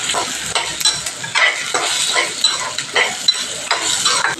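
Tomato and coconut fry in a pan for mint chutney, with loud sizzling and repeated scraping strokes of a spoon stirring in a steady rhythm, close and without speech.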